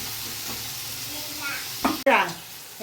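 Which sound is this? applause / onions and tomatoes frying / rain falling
onions and tomatoes frying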